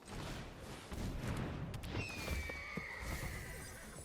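An ostrich horse's shrill, horse-like whinny cry rings out over a rumbling, crashing soundscape in the game Avatar: The Last Airbender Sealed, with a long wavering call trailing off toward the end.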